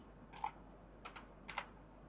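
A few soft keystrokes on a computer keyboard as a command is entered into a Windows command prompt, three brief light clusters of clicks in a quiet room with no talk.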